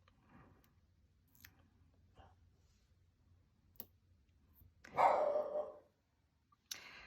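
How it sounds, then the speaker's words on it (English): Indoors, a dog gives one loud bark up close, with faint clicks and scattered small noises in an otherwise quiet room before and after it. "Having a hard time with my dog here. He keeps barking away"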